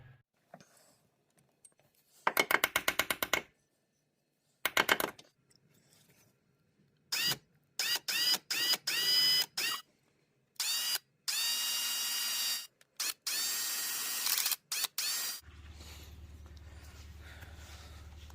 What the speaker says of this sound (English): we're gonna have to use a extractor on this